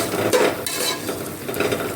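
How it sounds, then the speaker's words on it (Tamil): Tomatoes with salt sautéing in a pan for chicken biryani, a soft sizzle with scraping stirring strokes of a spoon, close and fairly quiet. "தக்காளியும் போட்டு நல்லா வதங்கணும்."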